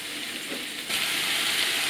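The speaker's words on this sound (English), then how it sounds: "put the minced beef in and break it up with this spatula," Minced beef browning in a hot pan while a spatula breaks it up, a soft frying hiss that swells abruptly into a louder, steady sizzle partway through.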